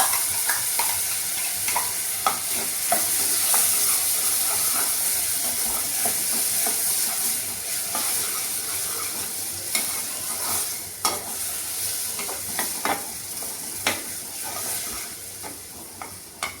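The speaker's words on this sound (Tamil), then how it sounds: "சேர்த்து ஒரு கலக்கி விட்டோடனே அப்படியே நம்ம அந்த அரைச்சி மசாலாவே சேர்த்துடுங்க" A spoon scrapes and stirs boiled pulses with ground masala in a sizzling pan, steady hiss throughout with irregular scraping clicks, close and moderately loud with no talking.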